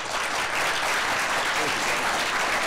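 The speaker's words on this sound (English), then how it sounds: "Always good to get applause up front." A conference audience claps steadily, dense continuous applause from a full room with no pauses.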